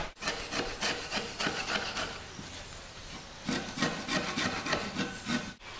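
A knife scrapes bark off a rough, raw piece of wood for a berimbau, giving loud, close, rhythmic rasping strokes that run steadily with a brief pause in the middle. No one talks.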